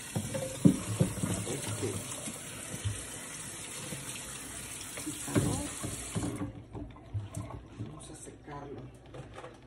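Tap water runs and splashes as passion fruit is washed in a kitchen sink, a gushing stream under a woman's speech that stops partway, leaving quieter handling sounds.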